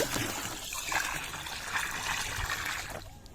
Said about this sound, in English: The chlorine is dissolved, so you can pour it around the perimeter of the pool. I'll pour it in several spots.